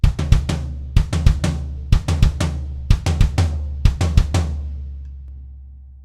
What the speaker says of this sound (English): So it's kick, floor tom, kick, floor tom.